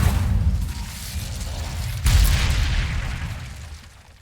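An Incendio fire spell is cast in Hogwarts Legacy as a sudden whooshing burst that flares up midway through an ongoing rumbling roar of combat, then fades out with no voices.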